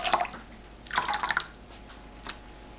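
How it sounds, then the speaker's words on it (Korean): Water splashes into a pot of soaked beans in two short bursts, with a faint trickle trailing after, close and fairly quiet. "콩 불린 물 200ml, 그냥 물 300ml 넣어줍니다"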